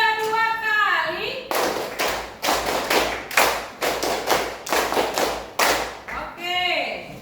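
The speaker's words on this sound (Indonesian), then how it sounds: "Tepuk 3 2 kali" A class of children claps a rhythmic pattern of three claps done twice, sharp, loud, close hand claps in grouped bursts, with a teacher's voice speaking at the start and end.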